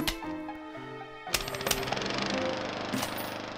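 Lawnmower in the video game Plants vs. Zombies, heard as a busy stretch of game sound effects with sharp clattering hits and a sustained whirring rush that builds and carries through to the end.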